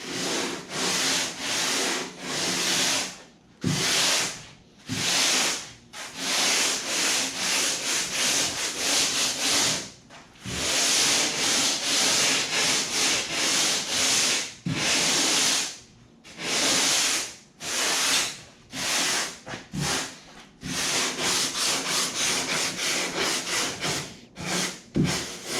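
Close, rasping strokes of hand sanding a 45-degree foam edge on a homemade foam and fabric kayak repeat in long bursts separated by brief pauses, steady and scratchy with no voices.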